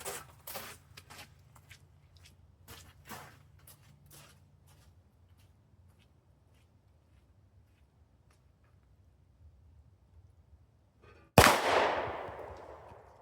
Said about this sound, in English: Handguns can still fire without a magazine in it, as you just saw.